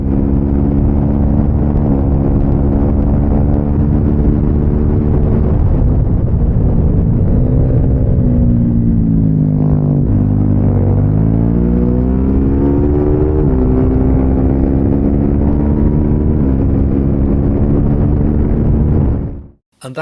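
Racing motorcycle engine at full throttle on the Donington Park circuit, loud and sustained, pitch rising and falling through gear changes as it drives onto the straight, then cutting off abruptly at the end.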